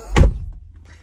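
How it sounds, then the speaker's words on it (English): A Volvo car door shuts with a single heavy, close thunk, followed by a brief muffled settling inside the car. "I'm closing the door"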